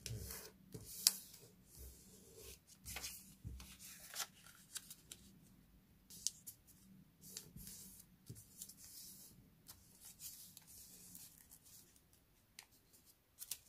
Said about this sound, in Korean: 표시선에 맞춰 안으로 접어요.